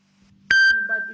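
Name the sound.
phone ringing or notification beep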